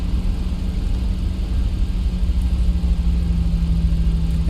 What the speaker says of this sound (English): We're clear for takeoff. Let's get out of here.